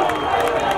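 Spectators roar at a D2 rugby championship match between the Tridents and the Pelicans, a steady broad crowd noise with cheering swelling throughout, loud and continuous.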